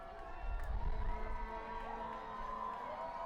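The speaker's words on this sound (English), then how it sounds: "Crowd's making noise." A baseball crowd at a Sugar Land Skeeters vs. York Revolution game murmurs and cheers at a distance, a low steady rumble swelling briefly before settling, without clear nearby speech.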